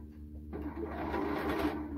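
Sewing machine stitching a sleeve cuff, a faint hum that starts into a fast, steady close-up stitching rattle about halfway through and keeps running to the end.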